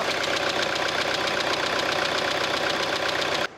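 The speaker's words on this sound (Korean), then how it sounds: "엔진 소리 한번 들어보겠습니다." A Hyundai Kona compact SUV engine, about two years old, idles steadily up close with the hood open, a continuous rough mechanical hum with a fast, even ticking pulse that stays level before cutting off at the end.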